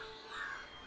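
A single crow caws once, a short, fairly faint call over quiet background.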